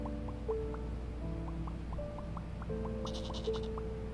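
A video game goat in Hypermarket Billionaire bleats in a quick series of short, rising cries over a steady low hum, with a brief high twittering near the end.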